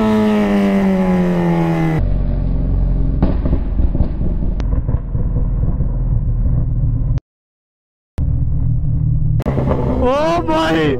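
A Kawasaki Z1000 motorcycle revs loudly up close, its exhaust cracking and popping in sharp bursts like firecrackers, the engine roar cutting off briefly before returning with more rising revs.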